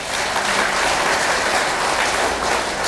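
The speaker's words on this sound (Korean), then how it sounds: "이 대목에서 박수 한번 안 치실래요?" An audience at an awards ceremony applauds steadily, a dense, loud wash of many hands clapping throughout, no talking over it.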